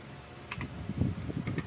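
Quick light keystrokes on a computer keyboard typing a command at a command prompt, a short close burst of clicking taps.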